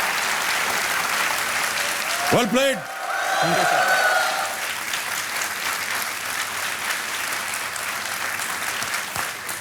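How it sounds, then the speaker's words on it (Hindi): A studio audience on the quiz show Kaun Banega Crorepati bursts into loud, sustained applause for a contestant winning a cheque, filling the whole stretch evenly, with a host's voice speaking briefly over it. "जोरदार तालियां बज जाए इनके लिए।"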